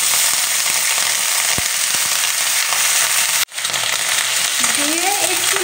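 Onion stalks and black cumin frying in hot oil for a fish recipe, a steady close sizzle with a few stirring knocks, a brief sharp break midway, then the sizzling resumes with faint squeaky scraping.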